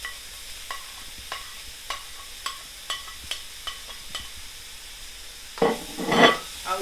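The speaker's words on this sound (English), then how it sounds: "our stir fry is ready for the tofu, and we're going to put the tofu in" Tofu stirred into a hot vegetable stir fry with broccoli scrapes at a steady rhythm of spatula strokes against the pan, then a burst of loud sizzling as the tofu hits the oil near the end, with no talking.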